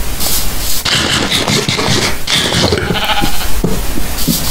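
Sheep bleating inside a Minecraft 1.10 game, a steady run of game-style bleats layered over constant background noise, with no talking heard.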